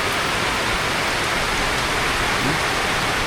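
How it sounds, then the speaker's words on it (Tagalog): Heavy rain pours down in a relentless, loud, even hiss with no breaks or voices, like a steady downpour hammering nearby surfaces. "Grabe, ulan."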